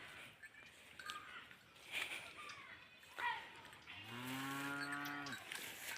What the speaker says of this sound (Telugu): మా ఆవులు మేయడానికి వచ్చాయి